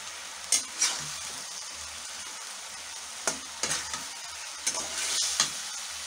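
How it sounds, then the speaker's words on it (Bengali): Pangas fish heads sizzle steadily in hot oil with spices, with a few sharp scrapes and clinks from stirring in the pan; no one speaks. "দর্শক, দেখতে পাচ্ছেন এখন আমি মাছের মাথাগুলো নিয়ে দিয়ে দিব।"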